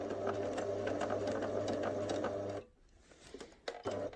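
Domestic sewing machine stitching fabric around a tight curve on a rabbit soft-toy pattern, a steady fast whirring run for about two and a half seconds, then stopping as the presser foot is lifted, followed by quiet handling clicks and a brief restart.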